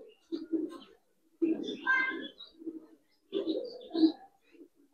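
A pair of Giribaz high-flyer pigeons kept at home coo in short bursts with pauses between, close and fairly quiet, the soft throaty calls alone without talk.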